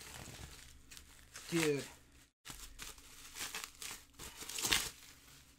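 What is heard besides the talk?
cutting open a package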